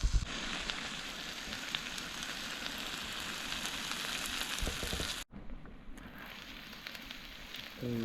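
Food frying in a pan at a stealth campsite by an abandoned pump station, a steady close sizzle and crackle running throughout, briefly cut off once midway before resuming.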